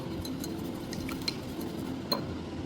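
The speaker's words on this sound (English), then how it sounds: "Eggs done, honey done, vanilla extract done. Now let's mix it nicely." Eggs, honey and vanilla extract are mixed in a bowl: a utensil stirs with faint, soft scraping and a few light clinks against the side, one clink standing out near the end.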